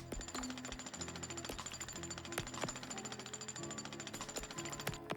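Jackhammer in the toxic-waste cleaning game Sludgineers, a rapid, steady mechanical hammering that runs continuously and loudly with sharp periodic impacts and a constant tonal whine underneath, no voices.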